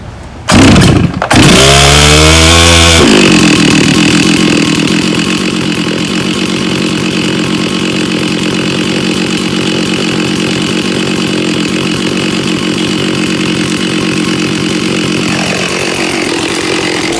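Late-1980s Stihl 064 chainsaw, freshly restored, sputters through a few pull-start attempts, then fires and settles into a steady, loud, close two-stroke idle with a bright buzzing drone that holds for over ten seconds.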